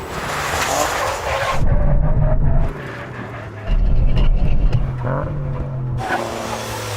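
A tuned 600 hp GR Yaris with a 1.6-litre three-cylinder engine drag racing a Nismo R35 GT-R, loud engine roar dropping away in surges as it brakes hard, with repeated bursts and lifts of power over several seconds.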